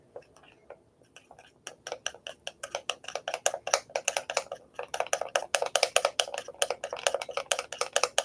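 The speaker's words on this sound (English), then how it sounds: "we're going to mix this together until well combined" Coconut milk is stirred into a mixture until combined, a fast rhythmic series of close scraping taps of a utensil against a bowl, steady and continuous with no talking.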